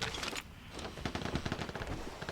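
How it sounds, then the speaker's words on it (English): Rapid bursts of L85 rifle fire in the video game Vigor crackle in quick succession, loud and close, with a brief pause early on before the shots resume. "L85 going off near the container"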